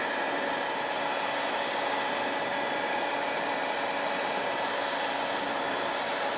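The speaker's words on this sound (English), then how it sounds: "Heating the cases up. Heat gun works pretty good for this," Heat gun blowing hot air onto Yamaha GT80 motorcycle engine cases on a rubber-covered bench, a loud, constant broadband roar that holds steady and close throughout.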